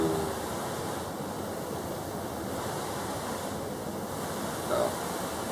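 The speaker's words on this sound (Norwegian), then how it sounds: "Propellene pisker opp vannet." Sea water churned up by the propellers of the cruise ship Liberty of the Seas, a loud, steady rushing wash with wind buffeting the microphone and no speech.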